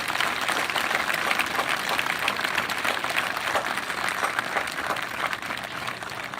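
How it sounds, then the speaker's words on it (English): Sustained applause from a large audience at a 2021 Upper Dublin High School graduation ceremony, dense and steady clapping throughout with a slight fade near the end. "Would you please join me in recognizing these individuals with a round of applause?"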